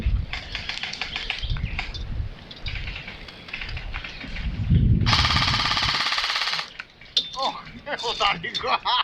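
A rapid, sustained burst of gunfire during an outdoor shooting game, loud for about a second and a half, with people talking before and after and birds chirping in the background.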